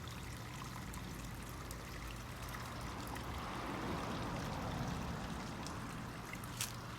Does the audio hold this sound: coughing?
no